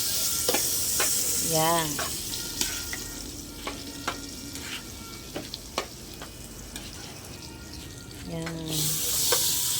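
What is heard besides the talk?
dairy cream frying and being stirred in a pan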